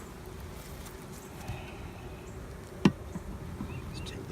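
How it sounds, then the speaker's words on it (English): Honey bees hum at a busy hive entrance, a low faint steady buzz throughout with one sharp knock partway through, no talking. "You see all the bees hanging out in the front."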